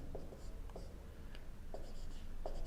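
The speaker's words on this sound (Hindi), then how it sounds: "मैं ऑप्शन लिख देता हूं" A pen scratches out answer options in short, soft strokes with small gaps, close but faint against a steady hiss, with no clear talk.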